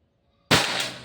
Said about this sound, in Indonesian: Tembakan pertama.